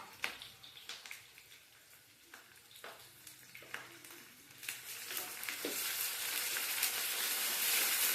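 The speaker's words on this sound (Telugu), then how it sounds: "ఇప్పుడు కరివేపాకు వేసుకున్నాం" Curry leaves dropped into hot oil for an egg and tomato pulusu give a crackling sizzle with sharp pops, building into a steady, louder frying hiss toward the end, heard up close with no talk.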